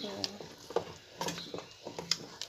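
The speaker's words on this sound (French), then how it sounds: "On n'arrête pas de tourner dans la cocotte" A spoon stirs eggs and onions in a cooking pot, producing scraping and clinking sounds in a quick irregular rhythm with a faint sizzle, close by and quiet, with some talking mixed in.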